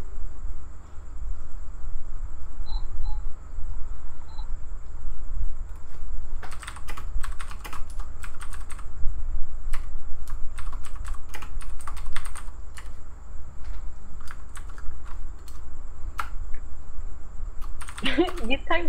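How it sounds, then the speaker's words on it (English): Clicky typing on a mechanical computer keyboard, bursts of close, sharp keystrokes in irregular rhythm over a steady low hum, with brief talk in the background. "You type so loud. Yeah, my keyboard. it's a mechanical keyboard."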